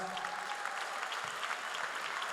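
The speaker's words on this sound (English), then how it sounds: "Please give the City Council members a big round of applause." An audience applauds City Council members at an Armenian Genocide commemoration event, with a steady wash of clapping that holds at an even, moderate level for the whole stretch and has no voices over it.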